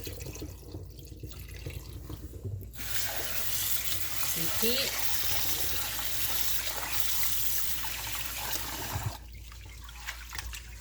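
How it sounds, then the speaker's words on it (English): Water pours and splashes for several seconds as it is drained from washed rice in a pot at a sink, fairly close, with a short spoken word near the end. "Squeeze it and then drain water out."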